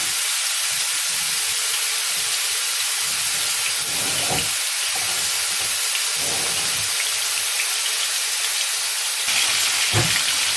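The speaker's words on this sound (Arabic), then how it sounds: "بالكرات كده في قلب الزيت بالشكل ده كده، عشان نديها تحمير" Dawood Basha kofta meatballs frying in a pan of hot oil, a loud continuous sizzle and hiss with a few sharper crackles and pops, heard alone.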